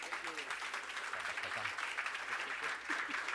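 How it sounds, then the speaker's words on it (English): Audience applause on a morning show, steady dense clapping at moderate distance with a faint voice underneath. "Another round of applause for Roberto."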